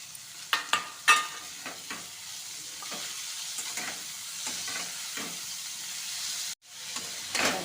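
Chopped radish leaves frying in a pan with green chillies, making a soft continuous sizzle and hiss with scattered stirring scrapes and clinks, close and fairly quiet, no speech.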